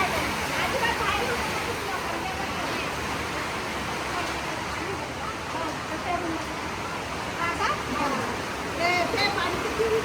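Sudden heavy rain pours in a dense, steady hiss for the whole stretch, loud and unbroken, with muffled voices faintly underneath.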